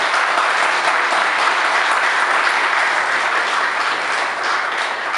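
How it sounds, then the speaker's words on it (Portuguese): Sustained, dense applause for a military firefighter at a city council session, steady and loud throughout with no voices standing out. "a salva de palmas para ele também"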